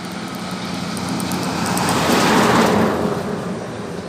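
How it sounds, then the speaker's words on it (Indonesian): A Pelita intercity bus passes on the road, its engine and tyre noise swelling steadily to a loud peak near the listener and then easing away, with no talk over it. "Bus kedua, ini ada bus Pelita Peradek teman-teman"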